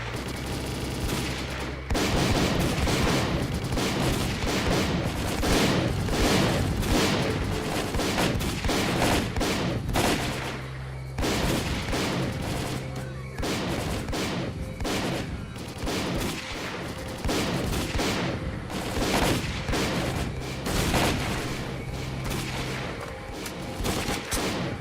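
Sustained gunfire from a firefight in the game S.T.A.L.K.E.R.: Call of Pripyat, dense bursts of automatic and single shots cracking continuously and loudly for the whole stretch, with no talk.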